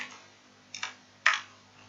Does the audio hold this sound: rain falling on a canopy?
no